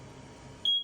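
A single short, high-pitched electronic beep from a smoke alarm's test button, faint and clean against quiet room background, arriving near the end.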